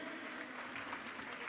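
A crowd at an outdoor political rally in Sanwer, Indore, claps steadily in a dense, continuous patter of applause, heard from a moderate distance and filling the whole moment.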